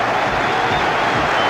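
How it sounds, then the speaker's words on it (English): Football crowd at Oakwell applauding at the half-time whistle of a tense Saturday match against Tottenham, a steady dense wash of clapping filling the ground, loud and sustained throughout. "to general applause from around a relieved Oakwell"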